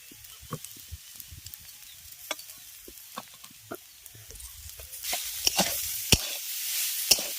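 Carrots and peas sizzle in a pan while a spatula stirs them, giving a soft frying hiss broken by scattered scraping clicks and taps. The sizzle brightens toward the end. No one speaks.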